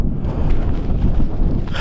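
Strong gusty wind sweeping across a frozen lake in the Finnish fell wilderness, a continuous loud roaring rumble buffeting the microphone throughout, with no voices.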